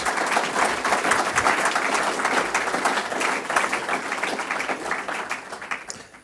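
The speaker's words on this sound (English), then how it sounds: "Can we please have a round of applause for all the new Safety Charter signatories?" An audience at a safety leadership event claps for new charter signatories, sustained dense applause at steady loudness that tapers off near the end, with no talking.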